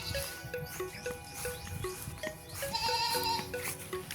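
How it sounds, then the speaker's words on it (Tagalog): Goats tied up on a rural property give repeated wavering bleats, several animals calling in overlapping bursts over steady outdoor background noise, fairly close and clear. "dito po sa property, may mga kambing po silang nakatali"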